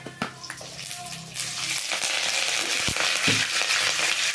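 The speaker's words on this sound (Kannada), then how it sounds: "ಈಗ ಕರಿಬೇವು ಹಾಕ್ಕೊಳ್ತೀನಿ." Curry leaves drop into hot oil in a pan and set off a sudden loud sizzle and crackle that keeps hissing steadily after a few knocks at the start.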